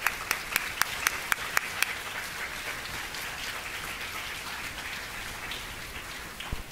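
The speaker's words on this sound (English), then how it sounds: "I definitely want to give a quick round of applause to Connie and Fran" A crowd at a book signing celebration gives a round of applause, opening with a few sharp distinct claps that quickly blur into a soft, steady patter of many hands, fairly distant and even.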